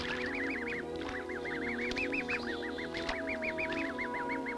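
Geese and goslings call close by in a steady run of repeated honking and quacking cries, layered and continuous with no talking.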